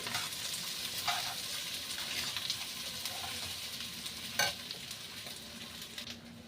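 Rice and cumin seeds being stirred and fried in a pot, a steady soft sizzle with scraping spatula strokes and a sharper clatter partway through, close but fairly quiet.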